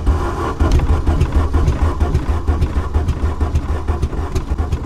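Engine of a Daewoo Nexia cranking on a weak battery, a steady rough low churning with the motor straining but not catching, loud and close throughout.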